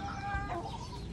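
An Aseel hen clucks close by in a short burst, steady low calls over farmyard background noise, with no one talking.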